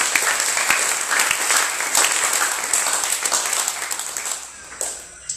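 Congregation clapping during an evangelical church service, a lively mass of applause with distinct sharp claps and occasional cheers, gradually fading toward the end.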